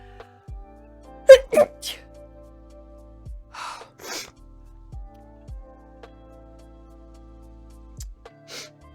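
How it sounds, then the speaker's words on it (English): A person sneezes sharply and close to the microphone, with a couple of quick breathy bursts followed by scattered sniffs and small noises against a quiet background. "Hold on, I gotta sneeze."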